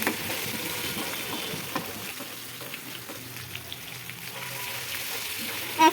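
Ginger and garlic paste being fried and stirred with onions in oil for a potato and egg curry, giving a soft, steady sizzle with faint scraping. It stays fairly quiet and continuous throughout, with no one talking.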